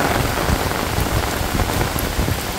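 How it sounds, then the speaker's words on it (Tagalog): Heavy rain pours down during Typhoon Aghon, a dense, steady downpour hissing across surfaces without a break, loud and close, with no voices. "At biglang lakas po uli ng ulan."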